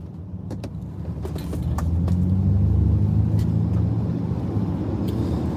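A car drives along the road with a steady low engine rumble and road roar that swells slightly and then holds, with a few faint clicks and rattles inside the cabin and no talking.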